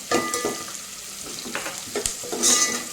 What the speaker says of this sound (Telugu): ఇంకొంచెం ఫ్రై అయ్యేదాకా ఫ్రై చేసుకోవాలి